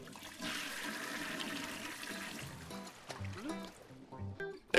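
A toilet flush effect from the video game Fishy rushes and gurgles for a few seconds, then fades into short game tones and blips.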